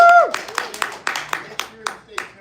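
A few people clapping for a rapper on a live show, about nine separate claps in a loose rhythm, close and modest rather than a big crowd, following a short whistle-like tone at the start.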